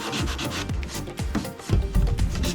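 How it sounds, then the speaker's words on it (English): Steady, close abrasive rubbing of 120-grit sandpaper on a wooden bookcase, stripping old finish in repeated back-and-forth strokes that grow slightly louder near the end, with no talking. "it looks like the finish is coming off really easily just with the sanding"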